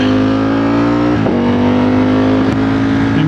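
A Ducati Streetfighter V4S motorcycle rides off on a mountain road near Cleveland, Georgia, its engine loud and close with a steady sustained drone and a quick gear-change dip partway through.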